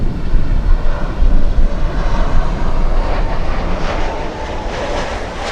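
An American Airlines airliner arriving from San Juan, Puerto Rico, at Miami International Airport passes nearby with a loud, rumbling engine roar and gusty low buffeting that grows more hissing toward the end.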